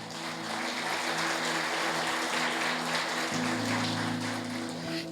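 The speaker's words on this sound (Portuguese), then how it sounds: "Aplauda ao Senhor Jesus" Applause from a church congregation fills the space as a steady wash of clapping, with sustained keyboard or organ tones held underneath throughout and a brief louder burst at the very end.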